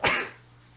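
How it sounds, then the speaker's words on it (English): A single sharp human sneeze bursts out close to the mic and fades within a fraction of a second, alone without talk, during a relaxed chat about a fancy guppy fish tank. "So I got to sneeze."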